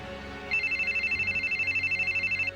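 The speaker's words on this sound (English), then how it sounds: "Pick up the phone right now." A telephone bell rings loudly and steadily in a rapid repeating trill within the LaserActive detective game J.B. Harold Blue Chicago Blues, starting after a brief lead-in and continuing without pause.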